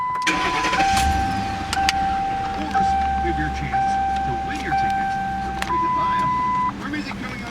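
A 2011 Ford Crown Victoria with 119,000 miles is started from inside the cabin: steady warning-chime tones sound while the starter cranks and the engine catches into a low, rumbling idle, heard close up.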